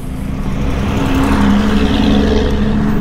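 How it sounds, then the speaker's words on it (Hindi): Vehicles crawl through a narrow road tunnel at Shaitan Nala in Kashmir, a loud, dense roar of engines echoing close by with no talk. "गाड़ियाँ बड़ी मुश्किल से चल रही है।"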